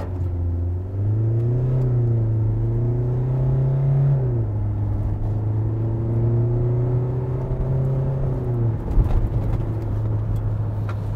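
A 2022 SsangYong Rexton seven-seat SUV accelerates hard from a standstill, its engine rising in pitch through a gear, dropping, then climbing again in a steady interior drone before a brief thump near the end; no one speaks.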